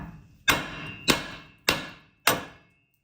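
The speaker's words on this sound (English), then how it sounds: "hit it with a hammer" Four sharp metallic hammer strikes on a front lower ball joint taper of a 2012 Silverado-type truck, evenly spaced about half a second apart, each ringing briefly before fading.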